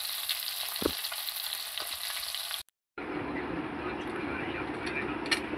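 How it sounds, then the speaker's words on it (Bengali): Fish frying in a pan, a dense, even hiss of sizzling oil close by, broken by one brief cutout of near silence before the frying noise resumes. "আর এখানে মাছটা ভাজে নিতেছি।"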